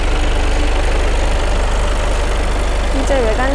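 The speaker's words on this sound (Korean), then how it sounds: "엔진 소리 일정하네요" A car engine idles steadily up close with an even, throbbing low rumble; a brief voice surfaces near the end.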